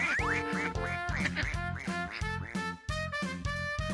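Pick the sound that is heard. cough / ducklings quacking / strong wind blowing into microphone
ducklings quacking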